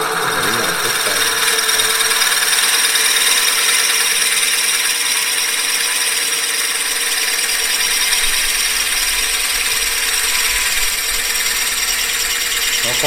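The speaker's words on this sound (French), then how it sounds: "je réduis la vitesse de mon tour. Il ne faut pas tourner trop vite." A wood lathe spins a wooden pepper mill blank at reduced speed, giving a steady, loud, continuous whirring hum with a high whine throughout, close by and without talking.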